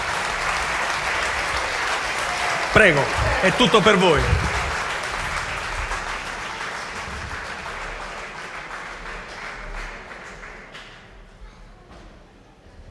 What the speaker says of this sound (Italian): Accogliamoli con un bellissimo applauso.